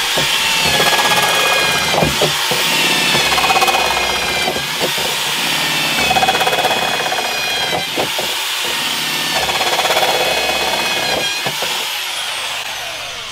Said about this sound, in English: So that's how we're going to drill holes,